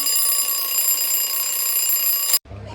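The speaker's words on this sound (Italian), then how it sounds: "e la sveglia all'alba" An alarm clock rings steadily and loudly at dawn before a mountain ultra-trail race, then cuts off abruptly near the end, leaving only faint low background rumble.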